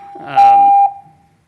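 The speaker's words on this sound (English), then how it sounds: "there a reason for that beep?" A single loud, pure electronic timer beep lasting about half a second at a Clark County Commission meeting, with a voice briefly overlapping it.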